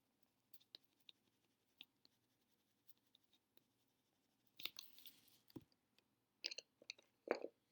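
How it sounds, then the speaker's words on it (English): Colored pencils drawing and coloring on paper during a timed class activity on healthy plates, faint scattered scratches and taps that grow into busier bursts of close scribbling strokes. "So keep coloring, keep drawing."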